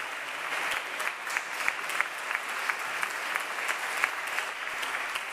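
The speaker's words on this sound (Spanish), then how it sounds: "Con aplausos y en pie, así ha celebrado el Pleno la aprobación de la Ley de Cambio Climático y Transición Energética" A parliament plenary chamber applauding on its feet the passage of a climate change and energy transition law: sustained, even clapping from many hands, moderately distant, alone with no voices.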